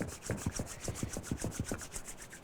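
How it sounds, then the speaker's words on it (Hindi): Two palms rubbed together briskly to warm them during a yoga class, a steady series of close, rhythmic skin-on-skin rubbing strokes with no talking. "धीरे से दोनों हथेलियों को रब करें, खूब हथेली को गर्म करें"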